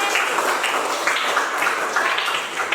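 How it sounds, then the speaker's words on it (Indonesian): Classroom applause for a student named Anjali, a steady wash of many hands clapping in a room, fairly even and continuous with no voices over it. "tepuk tangan untuk Anjali"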